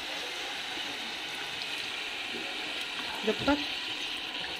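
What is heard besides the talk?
water poured into jackfruit curry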